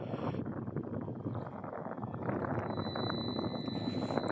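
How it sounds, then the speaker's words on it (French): Wind blowing across fishing rod lines on an inflatable Hobie iTrek 11 kayak on the Étang de Berre, a steady soft rushing hiss with a faint thin whistle rising near the end. "c'est juste le bruit du vent qui passe sur les fils de la canne à pêche"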